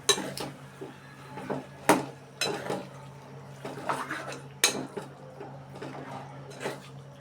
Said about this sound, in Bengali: আমি আবারও ভালোভাবে নাড়তে থাকবো।